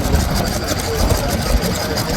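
A vintage stationary engine with a single pushrod working both valves, top exhaust and bottom intake, runs with a rapid rhythmic chugging at a machinery rally, close and fairly loud.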